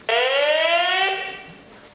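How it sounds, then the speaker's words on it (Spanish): A smart security camera sounds its siren alarm: a loud, steady electronic wail with rich harmonics that holds for about a second, then drops off and fades. "La sirena."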